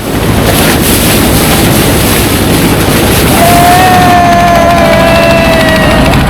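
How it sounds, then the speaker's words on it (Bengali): Constant loud rush of wind and water around a moving boat on river waves near Chandpur, Bangladesh, with an engine drone, and a thin high whine rising in later. "নৌ ভ্রমণের মূল মজাই হচ্ছে ঢেউ"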